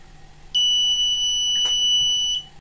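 A single loud, sustained electronic alarm beep from an Arduino-based smart plate, steady and high-pitched, lasting about two seconds before cutting off.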